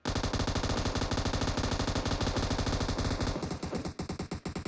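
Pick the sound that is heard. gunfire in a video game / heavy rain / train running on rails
gunfire in a video game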